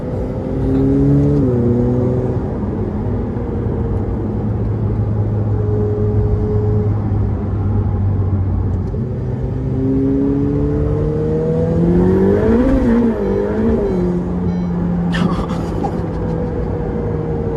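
A Ferrari F8 Tributo V8, rear-wheel drive, pulls hard through several gears, pitch rising in sweeps with shifts between them, then easing to a steadier cruise before another sharp climb, loud and close with no speech.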